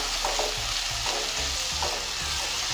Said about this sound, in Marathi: हे आता व्यवस्थित परतून घेऊया